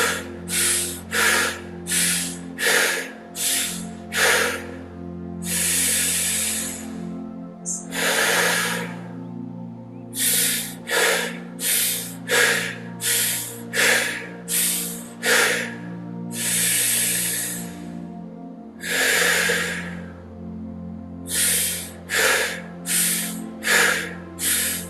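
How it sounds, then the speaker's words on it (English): Groups of short, sharp nasal breaths are taken in a guided breathing exercise, with longer hissing exhales between the bursts. They repeat rhythmically and sit close and loud over a steady low musical drone. "4 short breaths,"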